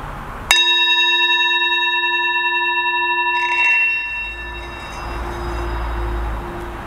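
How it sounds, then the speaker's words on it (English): A single struck bell rings out clearly during a guided yoga listening exercise, its bright tone sustaining and slowly decaying over several seconds while faint room noise and low rumble fill the background. "I'm going to ring the bell again"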